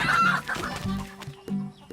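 A chicken clucks close by in a few short, uneven bursts, with quieter pauses between them.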